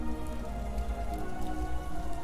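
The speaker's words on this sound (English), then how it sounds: "The rain was relaxing." Rain ambience plays during an online Curse of Strahd tabletop game session: a steady, dense patter of rain on a surface, even and continuous, with no one talking.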